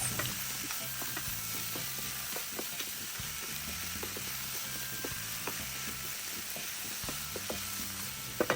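Green beans and chicken sizzling steadily in a hot pan for a jerk chicken dish, a constant fizzing hiss with occasional clicks and scrapes of stirring, close and fairly quiet, with no talking.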